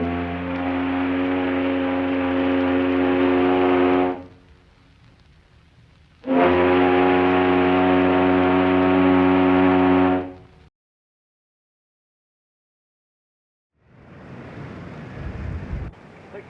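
The horn of the P&O liner Multan sounds two long, deep, steady blasts of about four seconds each, separated by a short pause, followed by rough wind noise.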